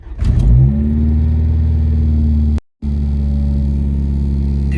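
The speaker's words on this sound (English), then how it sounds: "and start her up." An Acura Integra engine cranks and catches, then settles into a steady low idle rumble, close and loud, with a brief dropout partway through.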